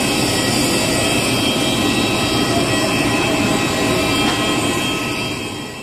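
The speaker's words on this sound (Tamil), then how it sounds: "ஸோ ஃப்ளைட்டு டேக் ஆஃப் ஆகிடுச்சு." Passenger jet taking off on a flight from Trivandrum to Delhi, a loud steady broadband engine roar heard from inside the cabin, holding constant and easing slightly at the end.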